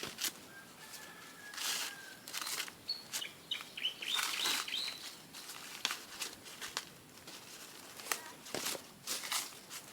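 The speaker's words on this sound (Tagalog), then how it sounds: "May huni na ng ibon." Faint bird chirps and short tweets come in scattered bursts from a distance, mixed with soft footsteps and rustling, outdoors at a corn harvest in rural Bukidnon, Philippines.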